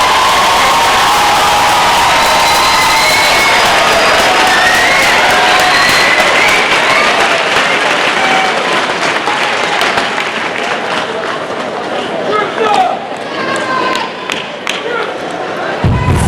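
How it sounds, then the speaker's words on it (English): Loud applause with cheering and whistles from the audience at a 2017 high school graduation ceremony, dense and sustained for about sixteen seconds, thinning slightly toward the end. "Seniors, give them an applause."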